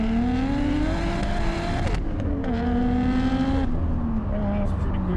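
Toyota JZZ30 Soarer pulling hard from a standstill to 100 km/h, its engine note climbing steadily through the gears with brief dips at each shift, close and continuous inside the cabin.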